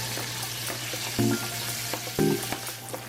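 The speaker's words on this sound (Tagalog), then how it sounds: "saka ko piprito yung ating liempo" Flour-dusted pork belly (liempo) frying in oil on a stove at medium heat, with a steady close sizzle and two brief louder crackling bursts.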